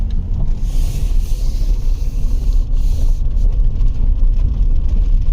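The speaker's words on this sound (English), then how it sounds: "Car is definitely warmed up now." A 2011 Nissan Rogue with a rough-running engine drives along, a loud steady low rumble of engine and road noise with some wind buffeting, close and continuous without talk.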